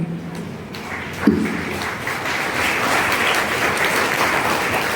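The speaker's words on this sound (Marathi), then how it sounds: "आपल्याला खूप टाळ्या वाजवायला लागणार आहेत ताईंसाठी" An audience at an award ceremony breaks into sustained applause for a woman honoured with the Navadurga award, the clapping swelling and holding steady as a dense crowd roar of hands.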